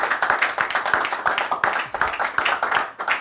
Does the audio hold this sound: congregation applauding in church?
yes